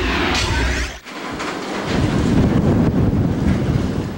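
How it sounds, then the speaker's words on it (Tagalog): Heavy typhoon rain and strong wind of Typhoon Lando pound Baler, Aurora in a loud, continuous roaring rush with gusting buffets against the microphone, no voices present. "Umuugong sa lakas ang ulan at hangin na bumayo sa Baler, Aurora"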